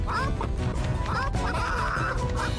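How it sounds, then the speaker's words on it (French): Several cartoon chickens squawk and quack in quick bursts as they stampede, over a busy, rumbling clatter of movement nearby, with faint voices mixed in. "Les poules sont en pleine cavalcade"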